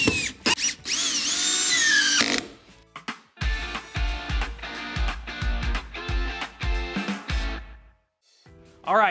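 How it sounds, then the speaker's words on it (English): Power drill driving four screws to secure a mounting plate to a stringer for a Delta R4700 floor-mount tub filler, a long whining burst followed by a series of short, loud, close-up drilling pulses separated by brief pauses. "Next, I'm going to use my 4 screws and secure the plate in place."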